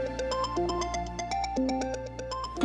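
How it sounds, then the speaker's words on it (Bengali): A phone rings with a melodic ringtone, a repeating run of bright electronic notes played close and clear with nothing else heard. "ড্রাইভার দাদার ফোন।"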